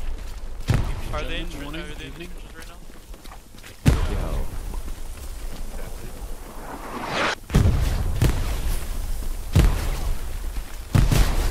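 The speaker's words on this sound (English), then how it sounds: "They got me with a grenade." A grenade detonates in the World War II shooter Hell Let Loose, a sudden loud thump-boom amid ongoing battlefield noise and scattered impacts, with a player talking over it before and after the blast.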